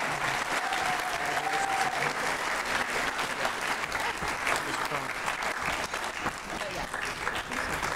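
An awards ceremony audience claps loudly and steadily, a dense wash of applause from a large indoor crowd, with a voice briefly over the start.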